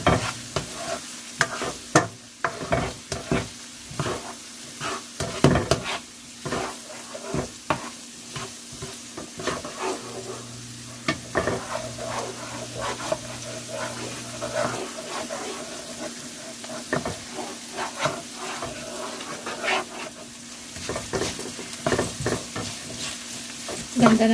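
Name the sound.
stirring fried rice with egg in a frying pan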